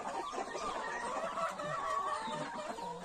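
Several chickens, including fighting cocks, native chickens and meat breeds, cluck and murmur together nearby, a busy overlapping chatter of soft clucks with no talking.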